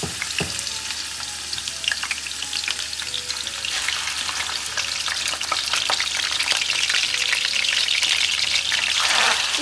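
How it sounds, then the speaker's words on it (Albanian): Chicken pieces frying in melted butter for a traditional Albanian village dish, a loud, dense, continuous sizzle with occasional utensil taps, growing slightly more intense toward the end. "E shkrim edhe gjalpin dhe në këtë moment vendosim pjesët e pulës një dhe nga një"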